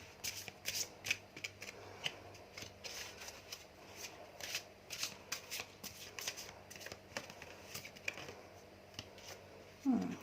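A tarot deck is shuffled close up, with steady riffling and sliding of cards in quick repeated bursts over a low background hum.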